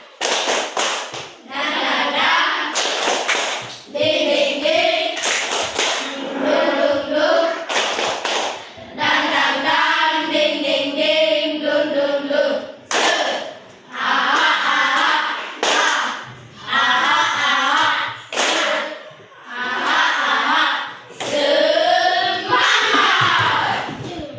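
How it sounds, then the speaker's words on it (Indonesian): A classroom group performs tepuk semangat, a spirited rhythmic clapping chant led by one person at the front, with loud chanted voices over patterned claps and thumps throughout. "Tepuk semangat."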